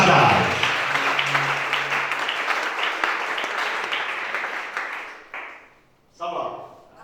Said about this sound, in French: On va acclamer Shaddai.